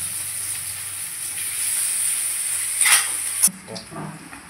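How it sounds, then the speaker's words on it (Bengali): Potatoes sizzle steadily in hot oil with a bright, constant hiss, then a clatter of stirring near the end. "এই আলুগুলো দিলাম, আলুগুলো একটু লাল লাল ভাজা হয়ে যাবে"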